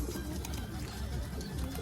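A pigeon coos on a rooftop, low repeated murmuring calls close by, steady against a busy background with faint voices.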